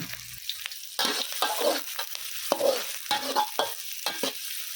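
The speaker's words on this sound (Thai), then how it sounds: "แล้วเราต้องเคี่ยวกระเทียมกับหอม ให้แบบเหลืองก่อนเหลืองได้ที่ก่อน" Chopped garlic and shallots are stir-fried in a pan for a long-eggplant stir-fry: a soft background sizzle broken by repeated bursts of a spatula scraping and tossing, uneven in rhythm and close by.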